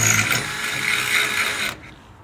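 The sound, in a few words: drilling a hole in a barrier boom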